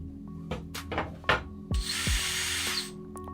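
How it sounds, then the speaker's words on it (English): A power drill bores holes through protective plastic on a DIY lens protector, short bursts of whining motor and grinding followed by a longer sustained run, close up and alone. "Then I drilled some holes"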